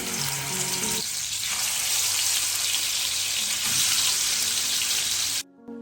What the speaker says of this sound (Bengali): তারপরেই সর্ষের তেলটা আমি দিয়ে দিলাম